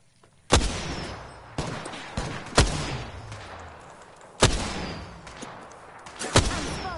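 Gunfire in a multiplayer shooter video game: a handful of loud, sharp shots spaced roughly a second apart, each ending in a short decaying echo, with no talk over them.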